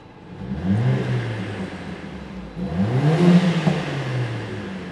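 A wagon's engine revs twice with its exhaust sound mode engaged, each rev a rising then falling growl, moderately loud and close, with no talking.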